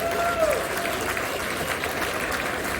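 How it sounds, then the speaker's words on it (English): An audience at the Hamvention 2022 youth forum applauds in a steady, dense wash of clapping throughout, honoring the Ham of the Year, with faint voices mixed in. "give him a round of applause for that"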